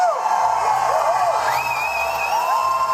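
A large crowd at a royal wedding procession cheers and whoops steadily, with sharp rising shouts and whistles over a constant roar of voices.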